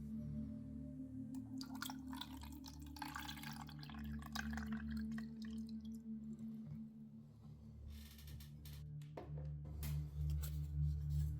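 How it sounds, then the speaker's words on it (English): Water is poured into the top container of a small USB mini air cooler fan, giving a faint, close trickle and dripping that runs on and off under a steady low hum. "you were supposed to add water to the top of it, which I'm doing now"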